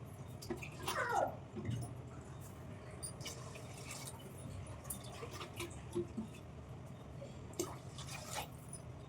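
Water pours and splashes into a pot of tomato rice, with scattered drips and small splashes over a steady low background rumble.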